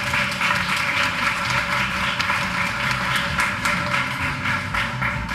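A crowd claps at a teacher of the year ceremony, dense and fairly loud throughout, with a steady low hum underneath.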